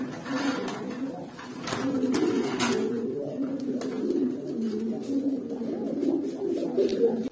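Pigeons in a breeding loft coo in low, repeated, rolling phrases close by, layered with soft fluttering and scuffing, and a few sharper knocks break in now and then.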